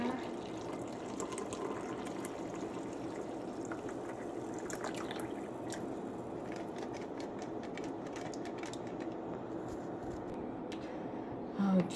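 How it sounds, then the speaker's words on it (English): Brewed tea streams steadily from a pot into a cup, a continuous soft liquid trickle lasting several seconds with faint background hum and no talking. "Let's go ahead and pour."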